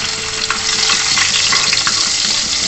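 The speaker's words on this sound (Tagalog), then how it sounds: "Maggisa na tayo guys." Hot cooking oil sizzles steadily in a pan as garlic and ginger are sautéed for kinamatisang tanigue, a dense, continuous frying hiss with faint stirring scrapes throughout and no talking.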